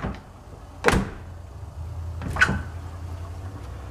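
Door of a 1930s General Electric Monitor Top refrigerator opens and shuts, giving two distinct sharp thunks about a second and a half apart, close and clear, with no talking.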